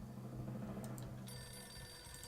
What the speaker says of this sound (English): Find the phone, Joey, find the phone!